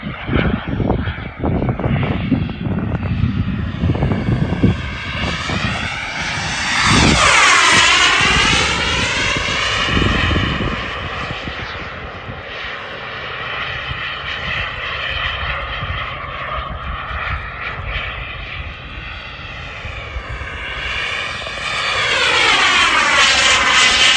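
A turbine-powered RC F-22 model jet roars at full throttle overhead, with a continuous loud whine that rises and falls in pitch as it passes by.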